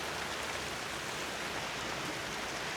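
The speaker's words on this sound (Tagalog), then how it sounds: "Lumakas na po yung ulan, no?" Heavy rain pours onto the roof of a hut, a dense, steady, even hiss with no breaks and no voices.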